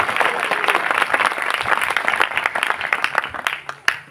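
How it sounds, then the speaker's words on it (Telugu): A church crowd applauds steadily throughout, dense clapping with a few sharper claps near the end. "ఇప్పుడు మీరు కొట్టే చప్పట్లు మన ధనవార గ్రామం నుండి కేరళ వరకు వినపడాలి"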